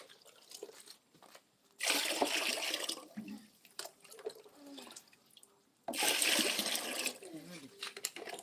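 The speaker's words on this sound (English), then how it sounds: "Now you add water again." Water is poured from a container into fermented cassava to wash it, in two loud splashing gushes of about a second each, with quieter handling and faint talk between them.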